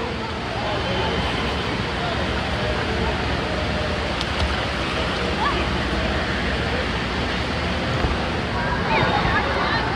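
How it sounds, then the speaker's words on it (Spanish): Wave pool at Great Wolf Lodge indoor water park, a steady loud wash of churning water and surf that fills the whole stretch, with a faint crowd babble underneath. "Waves are coming."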